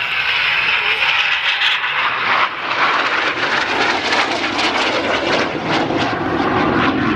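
A restored vintage aeroplane, formerly flown from March Air Force Base, passes at the Duxford Autumn Airshow, its loud engine roar steady and broad over several seconds.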